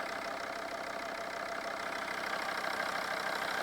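Volvo V50 D5 diesel engine idling after an alternator tension pulley repair, a steady, even mid-pitched hum with faint rhythmic clatter, close and continuous with no talk.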